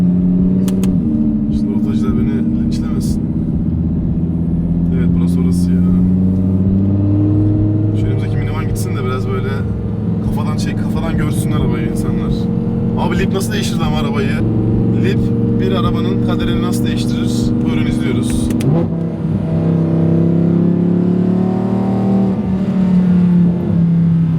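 Rotary-engine car revving and idling inside the cabin, a steady loud engine drone with rising and falling pitch throughout, with people talking over it.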